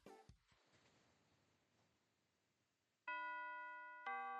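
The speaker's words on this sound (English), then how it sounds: "the final bell had rung and school was out for the day" An electronic school bell in a visual novel video game sounds two sustained chime tones about a second apart, loud and clear after a brief soft noise and near-silence.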